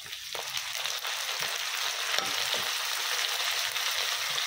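Brinjal and spinach hit hot oil with onions and fry with a close, continuous sizzle, broken by a few soft clicks and scrapes of stirring, steady and moderately loud.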